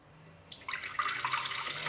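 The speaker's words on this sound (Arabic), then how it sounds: "تقريبا بعد ربع كوب من المي بتكون عنا كافية" Water poured into cookie dough made with butter and ghee for Eid ka'ak, a steady splashing stream that starts after a quiet moment and runs on loud and close with no voices.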